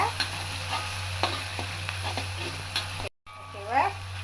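Ginger garlic paste fries in oil with a continuous oily sizzle, scattered spatters and a few stirring scrapes, fairly close, briefly cut off before the frying resumes.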